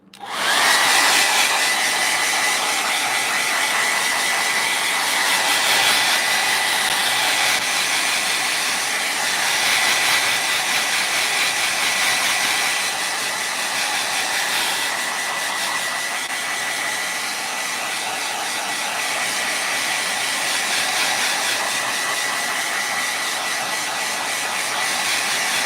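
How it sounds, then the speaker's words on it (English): An electric hair dryer blows steadily for the whole stretch, a loud, close, unbroken whoosh and hiss that barely changes in level. "I'm gonna do the dryer for just a minute."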